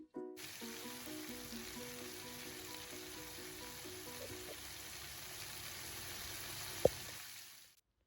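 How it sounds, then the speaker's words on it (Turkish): Steady sizzling of bell peppers frying in melted butter in a pan, continuous and close, with a soft click near the end before it fades out. "Yağ eridikten sonra biber parçalarını katıp bir süre bunları kızartalım."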